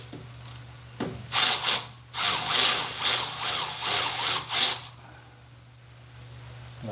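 Ratcheting clicks from loosening a fastener on a Scag 36-inch walk-behind mower, several short bursts of mechanical rasping close up, over a steady low engine or machine hum.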